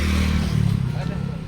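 Motorcycle engine idling and revving steadily close by, a continuous low rumble throughout.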